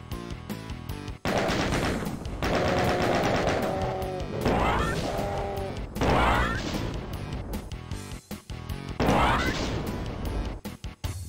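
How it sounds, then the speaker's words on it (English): Plasma gun blasting in the shooter Doom, dense repeated energy shots and crashing impacts, loud and continuous with game effects, in bursts through most of the stretch. "I might have to use the plasma gun"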